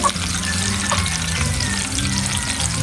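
An anchovy omelette fries in a pan with a steady, close sizzle, and a faint clatter of a utensil is heard now and then.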